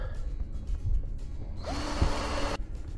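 Power drill boring pilot holes through wooden boards for a top bar swarm box, a loud broadband whir lasting about a second near the end, preceded by quieter handling noise.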